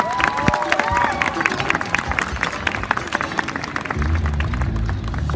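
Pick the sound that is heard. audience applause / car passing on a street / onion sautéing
audience applause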